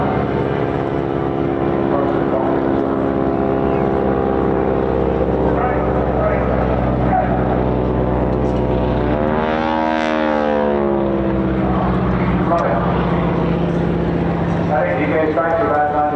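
A propeller aircraft with a thirsty, reliable radial-type engine from around 1936 drones steadily at a seaside airshow, with wing walkers aboard; a loud, continuous harmonic rumble swells and shifts in pitch as it passes, under a commentator's voice.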